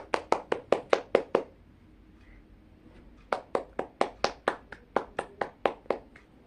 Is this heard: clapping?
yes